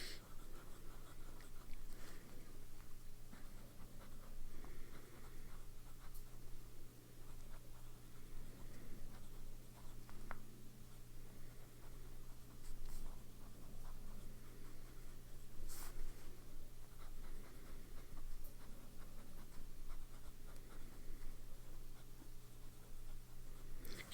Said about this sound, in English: I wanted to be able to write with the pen, and I can.